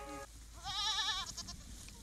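Goats bleating on a hillside grazing farm, a short wavering bleat followed by a longer, loud, quavering cry with a brief fainter call trailing after.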